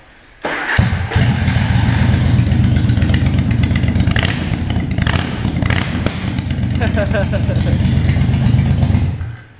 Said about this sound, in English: Listen to this bike with this is a Virago as well.